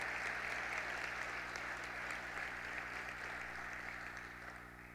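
Applause at a Colegio Notre Dame graduation for an honored student, even, continuous clapping from a sizeable audience that slowly tapers in the final seconds.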